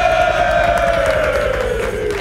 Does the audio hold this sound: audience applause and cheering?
yes